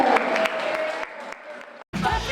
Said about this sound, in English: People here in Lebanon, Missouri is giving the best effort clap to Blaire Dior